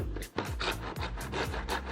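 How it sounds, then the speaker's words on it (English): A hand miter saw cuts wooden picture rail molding at a 45-degree angle, making a steady back-and-forth rasping stroke about twice a second. The sawing is close and continuous, with no voices. "So I'm going to use this miter saw and I'm cutting at a 45-degree angle."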